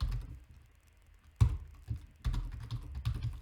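Code is typed on a computer keyboard in short clustered bursts of soft key clicks and thumps, one heavier keystroke standing out, fairly quiet with brief pauses between runs and no speech.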